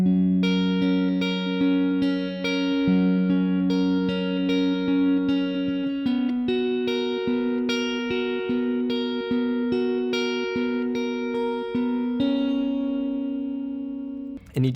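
A full verse riff on guitar, a steady run of plucked notes over ringing bass strings, with a chord change about halfway through. It is played alone, close and even in level.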